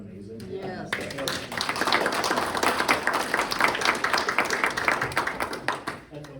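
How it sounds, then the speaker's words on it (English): People at a city council meeting give a round of applause, with lively, moderately loud clapping after a brief quiet start and voices mixed in. "Have to give a nice applause for Paul too"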